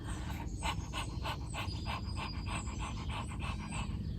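A person pants rapidly through the mouth in quick, even breaths, about two per second, imitating a dog's panting, close and steady, as breath-of-fire yoga breathing.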